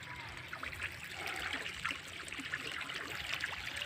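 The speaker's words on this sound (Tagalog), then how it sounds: "Maagos na naman yung tubig oh" Steady trickling and splashing water from a hose runs continuously, fairly close, with a constant wet hiss and no talk.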